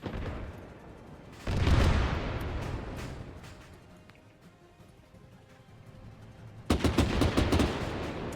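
Gunfire in the military game Arma 3, with a loud burst of shots and heavy rumbling fire near the start, a quieter stretch of distant crackling, then another loud volley of rapid shots near the end.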